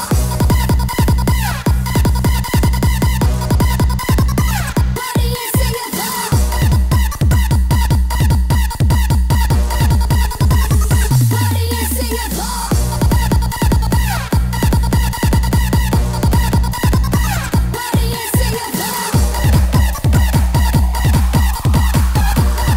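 Chickens cluck and a rooster crows amid a loud, driving dance beat, with the fowl calls repeating in a rhythmic pattern against pounding bass at a Bandung DJ performance.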